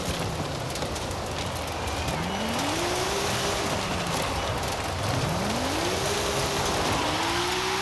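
A game Audi RS 6 Avant, a 2021 model with the ABT Sportsline kit, runs in Forza Horizon 5 with anti-lag. It gives a steady loud engine roar with repeated rising revs over hissing noise, and no talk.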